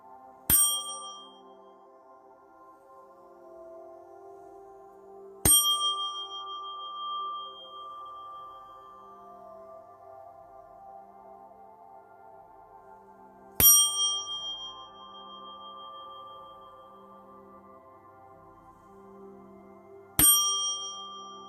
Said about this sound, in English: Now, 969 hertz with the Tibetan bell.